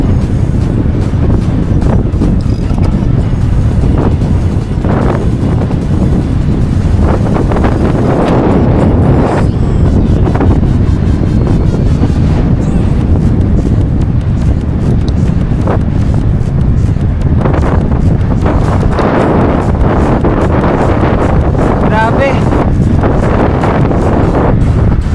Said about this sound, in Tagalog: Pero grabe lakas ng hangin.